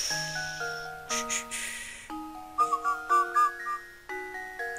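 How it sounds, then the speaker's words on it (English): A person whistles a short tune in clear, stepped notes against a steady musical backdrop, with a few bright tinkling accents near the middle; no talking. "I really shouldn't whistle, I'll probably put off the mic"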